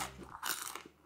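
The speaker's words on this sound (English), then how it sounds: "it's really crunchy on the outside and then kind of soft in the center" A single crisp crunch of teeth biting into a sliced-bagel chip topped with sauce and parmesan, close and brief, followed by faint chewing.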